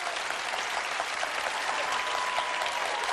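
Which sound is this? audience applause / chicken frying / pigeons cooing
audience applause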